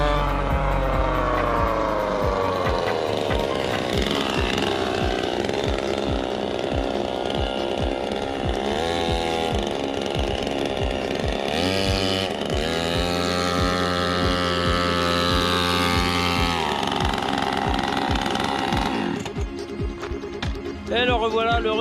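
A 49cc dirt bike engine roars loudly and continuously on a slight downhill run, pitch climbing then dropping as it speeds past close by, with voices audible near the end.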